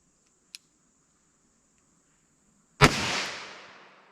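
A single gunshot from a 4-inch Smith & Wesson 686 revolver firing Hornady Critical Defense Lite .38 Special, a sharp loud crack with a decaying echo after a faint click and quiet pause.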